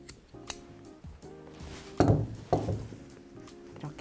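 Scissors cutting macrame cord during a DIY macrame bag project: two firm snips stand out close by among lighter clicks and handling noises, with no voices.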